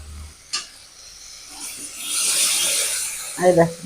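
Boiled mung dal poured into a pan of fried banana flower, a soft sloshing pour that swells over a couple of seconds, ending with a brief scrape of a utensil against the pan.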